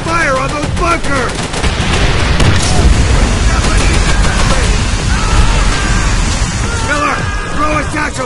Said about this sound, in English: Satchel charge!